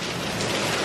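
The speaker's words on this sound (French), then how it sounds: "en fait il pleut un jour sur deux comme ça quoi" Heavy rain falls in a steady, dense hiss, loud and continuous through a brief moment with no voices.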